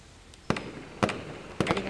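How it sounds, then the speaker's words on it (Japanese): Three sharp firework bursts crack out alone, a rocket firework setting off a quick pop at each half-second mark with crackling tails that fade between them. "いけちゃんからロケット花火。"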